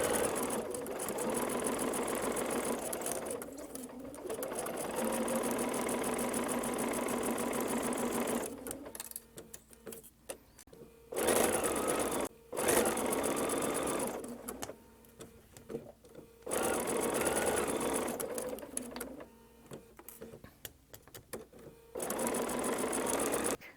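A sewing machine stitches curved fabric seams with a quarter-inch seam allowance, its rapid mechanical whirring running in several bursts of a few seconds each, separated by brief quiet pauses, close and clear with no talk.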